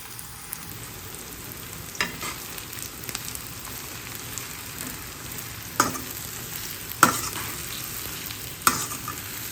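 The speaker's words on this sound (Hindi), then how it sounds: "यहाँ पर प्याज फ्राई हो रही है।" Onions fry in a pan for Hyderabadi biryani, giving a steady close sizzle with occasional sharper crackles and stirring knocks throughout. No one speaks.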